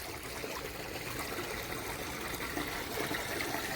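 Rainwater runs steadily through a roadside drain blocked by washed-in dirt and mud during monsoon rain in a Jamnagar village, a continuous close rushing, gurgling flow with rain hiss and no talk.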